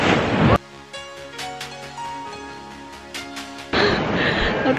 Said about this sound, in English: you probably can't even hear me because the water is just so loud